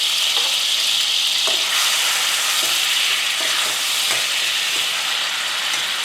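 Tomatoes and ginger fry in a pan for kuttu flour kadhi, a loud steady sizzle close up with occasional light stirring clicks and no voices.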